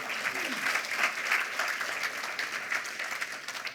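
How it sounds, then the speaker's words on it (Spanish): A church congregation applauds for the Lord, a sustained wash of many hands clapping at a moderate distance, fairly even with slight swells. "Vamos, denle otro aplauso al Señor."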